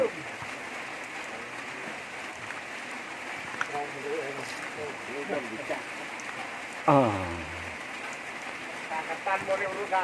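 Light rain falls in the evening around an elephant, a steady soft patter and hiss running beneath someone talking, with a few scattered louder bumps.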